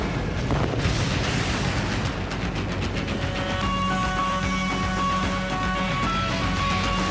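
Massive methane gas explosions and fires in a dramatized documentary disaster scene: a dense, continuous roar of booming blasts and rumbling fire, loud and steady, with a faint tonal drone emerging in the second half.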